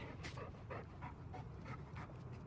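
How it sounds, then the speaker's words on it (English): A dog in the Farming Simulator 19 video game pants in quick, steady breaths, faint and continuous, with no voices over it. "Oh, there's Puppy Dog"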